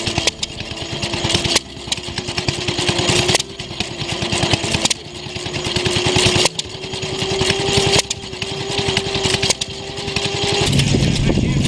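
A 1940 Wisconsin engine runs at an outdoor vintage engine rally with a fast steady putter, close and loud. Heavier beats land every second and a half, and the pitch shifts near the end.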